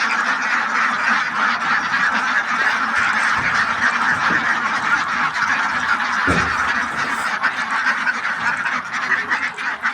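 A large flock of big ducks honks and quacks in a dense, continuous chorus, loud and close, with a few thumps and brief handling noises mixed into the steady clamor.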